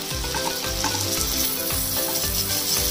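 Chicken tikka kababs sizzle and fry steadily on a hot tawa, a loud, continuous crackle close by with no talking.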